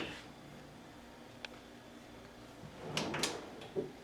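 A hotel room drawer slides and bumps shut with a soft wooden knock and brief scrape, fairly close in a quiet room.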